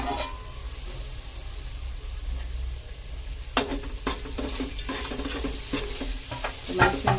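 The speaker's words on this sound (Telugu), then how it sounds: "టమాటా వేసుకుందాం. ఇది మంచిగా అడగంటుకోవాలండి, మంచిగా వేగాలి." Chopped tomatoes sizzle in a pan for a brinjal dum biryani, a low steady fry broken by repeated sharp scraping strokes of a spoon stirring them, close and clear with no voices.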